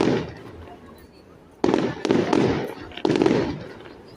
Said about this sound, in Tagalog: Isa pang mataas na fireworks dyan.